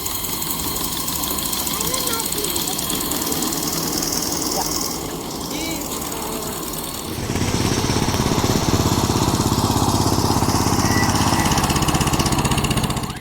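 A miniature geared steam engine on a model railway chugs steadily with a rapid mechanical beat, growing louder and rougher partway through as it labours up the line.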